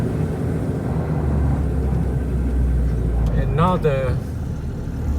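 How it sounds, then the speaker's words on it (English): A garbage truck's engine idles on a roadside amid flood cleanup, a steady low rumble filling the whole stretch while a person speaks briefly over it near the end. "garbage truck is picking up in front of me, so I'm blocked now"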